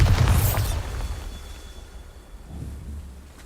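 A Bombarda spell detonating in Hogwarts Legacy on PC, a loud booming blast at the start that rolls off into a fading rumbling tail.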